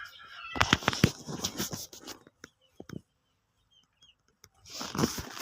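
Chickens caught by hand: loud bursts of frantic wing flapping and squawking clucks up close, a brief quiet pause, then another flurry of flapping.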